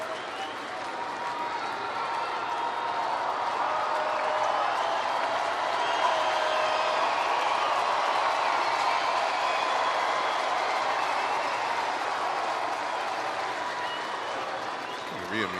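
Big ballpark crowd at Busch Stadium during a Phillies–Cardinals night game, thousands on their feet cheering and applauding in a steady, loud, dense roar that holds throughout with no break.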